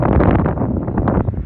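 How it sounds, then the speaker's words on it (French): Strong wind buffets the microphone outdoors during a metal-detecting outing, a steady loud roaring rumble with no voices. "Il y a de plus en plus de vent d'ailleurs."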